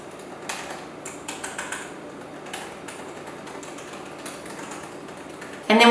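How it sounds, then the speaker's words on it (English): Light typing on a computer keyboard, scattered soft clicks in short bursts against faint room tone, ending with a sudden louder sound at the very end. "So I'm gonna go ahead and type that in pink first."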